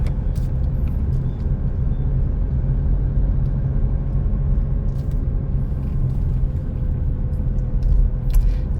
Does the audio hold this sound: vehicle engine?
yes